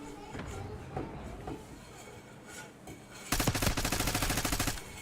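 Gunfire in a squad-based tactical shooter video game: scattered single shots early on, then a loud rapid burst of automatic fire in the last couple of seconds, with faint voices underneath.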